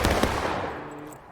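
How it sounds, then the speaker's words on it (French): A rifle volley fired by a line of soldiers at a Gettysburg battle reenactment, heard as a loud burst of overlapping shots that fades quickly into a dying echo. "la prochaine salve, on met des vraies balles, pas des balles à blanc"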